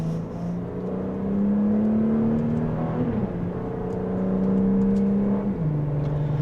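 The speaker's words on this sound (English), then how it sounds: "just a mild acceleration, we're up to speed" A 2026 Audi S5 accelerating in dynamic mode in second gear, its engine note climbing steadily, dipping at a gear change around midway, then rising again, heard from inside the cabin.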